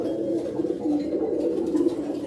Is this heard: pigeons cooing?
yes